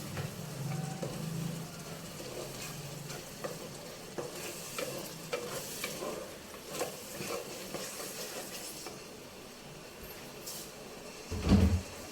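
Ginger garlic paste frying with onions in a pan for butter chicken curry, a low steady sizzle with spatula stirring scrapes and a clunk near the end; no one talks.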